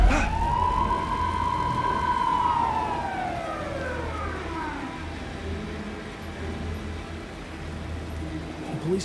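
Police car siren in the video game Alan Wake 2, a loud wailing tone that rises and falls in long sweeping cycles over a low engine-like rumble, continuous throughout with no talking.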